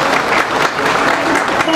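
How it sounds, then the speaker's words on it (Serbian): A concert audience at a charity concert in Bugojno applauds, dense and steady clapping from many hands filling the room, close and loud throughout. "Ako može, jedan aplauz."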